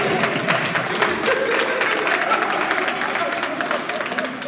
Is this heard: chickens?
no